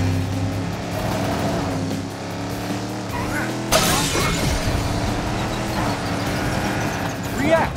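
Road mine blowing up under a racing car in the Cars 3 video game: a sudden loud blast bursts out midway through a steady drone of engines and game music, with voices talking around it.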